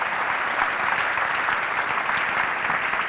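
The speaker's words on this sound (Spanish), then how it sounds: "Dale un aplauso al Señor" A church congregation claps steadily in praise during a sermon, a continuous even wash of many hands with no talk on top.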